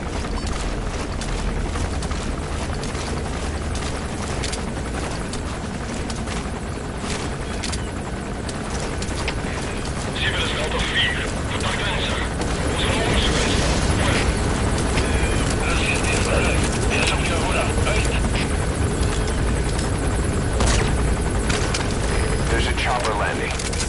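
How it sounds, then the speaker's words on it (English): An enemy helicopter gunship in a video game, a continuous loud rotor roar with mechanical clatter and bursts of rapid firing, while a voice talks over it throughout. "That's an enemy gunship."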